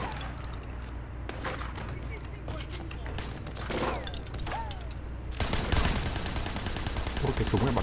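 Bursts of gunfire from a gun in the video game Sleeping Dogs, Year of the Snake, crack out in rapid broadband volleys. They grow louder and denser toward the end, alongside game effects and someone talking over them.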